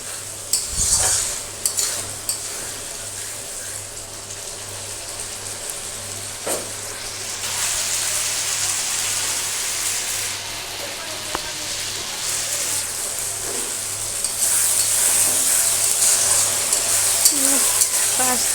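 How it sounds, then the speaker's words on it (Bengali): Spice masala frying in oil for a tadka, a steady close sizzle that grows louder partway through, broken by occasional scrapes and clinks of stirring. "মশলাটাকে ভালো করে ভেজে নেব।"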